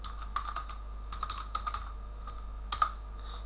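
Fingers typing HTML code on a computer keyboard, quiet irregular clusters of soft key clicks over a steady low hum, fairly close.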